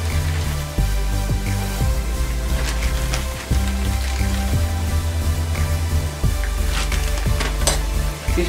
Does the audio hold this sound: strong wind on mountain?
no